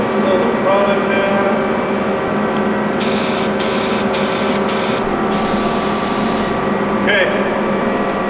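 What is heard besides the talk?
spray gun spraying paint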